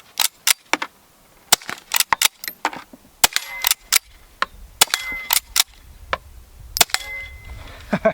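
Sharp gunshots from a Colt Lightning small frame revolver fitted with a new barrel, fired in a steady series of about twenty loud, crisp cracks with short gaps between them and nothing else heard.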